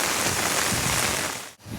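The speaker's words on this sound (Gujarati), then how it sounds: "આ જુઓ પવન સાથે વરસાદ આવે છે અત્યારે" Wind-driven rain pours steadily on a Gandhinagar college campus, a dense, close hiss of drops striking surfaces with a brief lull near the end.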